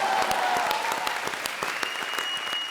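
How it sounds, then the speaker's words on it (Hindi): Studio audience applause on a comedy show, steady dense clapping with sharp individual claps standing out, moderately loud and unbroken for a few seconds. "जोरदार तालियां अर्चना जी के लिए."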